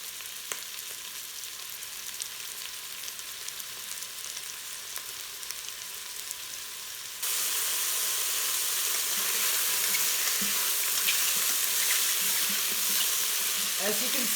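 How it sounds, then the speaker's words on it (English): Mushrooms and soft onion sauté in an Instant Pot, a close, steady sizzle that jumps noticeably louder halfway through as the whole mushrooms go in, with faint stirring scrapes and no talk. "So now that the onion is nice and soft, I'm going to add my mushroom."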